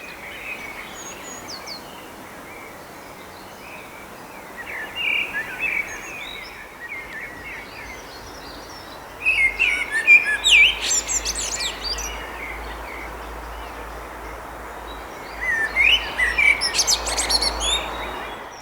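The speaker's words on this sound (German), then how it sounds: "die Amselmänner sitzen hoch oben in den großen Bäumen und singen ihre bezaubernden Lieder" Male blackbirds sing from high in tall trees on a May evening, bursts of fluting and chirping song arriving in a few separate phrases over a steady, faint outdoor background.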